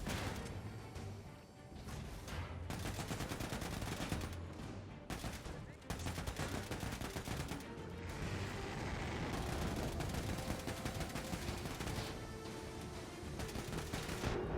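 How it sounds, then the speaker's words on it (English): Dense, nonstop gunfire and explosive crashes fill the final boss battle of the shooter Wolfenstein 2, with automatic bursts layered over heavy impacts at a loud, steady level. "this is the last encounter of the entire game, an absolutely insane gunfight"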